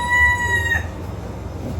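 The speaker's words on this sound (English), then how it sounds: "say hello to our rooster." A rooster kept at a home in Mexico crows once, close and loud, a single drawn-out call that fades into faint background noise.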